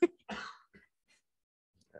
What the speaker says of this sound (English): Just a cough attack.